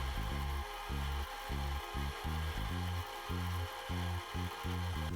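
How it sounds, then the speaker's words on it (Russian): A drill bores holes in 4 mm titanium plates, its motor rising and cutting out in short repeated bursts with brief pauses between, close and loud with no talk. "Подготовил 4-мм титановые пластины и сверлю в них отверстия"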